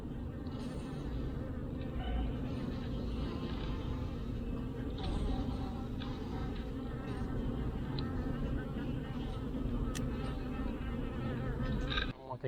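Dense, steady buzzing of many honey bees swarms around an open, mite-infested beehive, a close continuous drone with individual bees zipping past, with faint background noise throughout.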